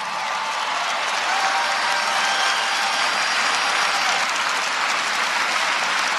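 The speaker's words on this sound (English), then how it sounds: "Give him applause, come on." A large political rally crowd in Des Moines, Iowa applauds in a dense, sustained roar of clapping that holds steady and loud throughout.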